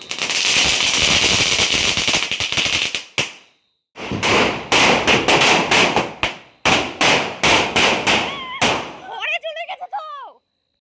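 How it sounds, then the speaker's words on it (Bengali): Diwali firecrackers crackle and pop at close range in loud, dense bursts, breaking into clusters of sharp snaps separated by brief pauses, with faint whistling fizz near the end. "চটপটির চটপট আওয়াজ।"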